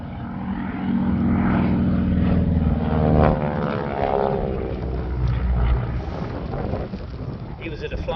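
A North American AT-6 Harvard propeller trainer flies past at an air show, a steady droning engine with a slowly shifting pitch, fairly loud and continuous with wind buffeting the microphone throughout.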